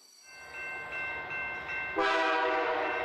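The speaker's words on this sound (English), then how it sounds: "Here comes another freight train. Toot toot." A loud freight train horn sounds over the low rumble of a passing freight train, swelling in a few pulses and then blasting louder and fuller near the end.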